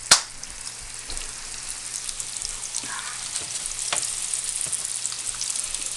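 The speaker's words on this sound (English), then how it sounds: "Let that fry on there." A schnitzel cutlet fries in a hot pan with a steady, fairly loud sizzle and crackle and no talking, with a few brief clinks and pops over the frying.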